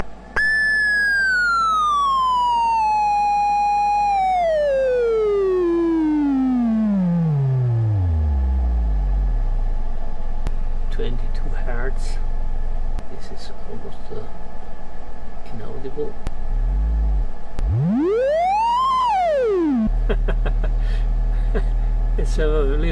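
A transistor-only voltage-controlled oscillator gives a loud, harmonic-rich electronic tone that starts near 1.7 kHz, glides steeply down, then sweeps back up in a siren-like arc, with some faint clicks between the glides.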